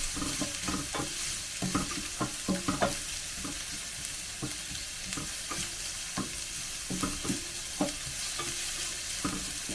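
Garlic, ginger and onion sauté in a pan with a constant crackling sizzle, while frequent quick scraping and tapping strokes of a spatula come in irregular bursts.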